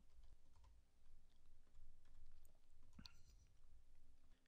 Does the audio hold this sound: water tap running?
no